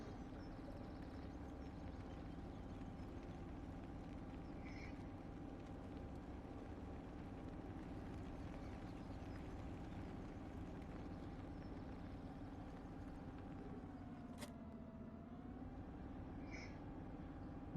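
Tractor in Farm Simulator 2017 pulling a heavy load, a low steady engine drone that holds constant and dips briefly in pitch as it strains, faint and continuous with no talk.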